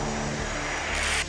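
An A-10 Warthog military jet flies past with a loud, steady engine roar that swells briefly near the end before cutting off, with no voices present.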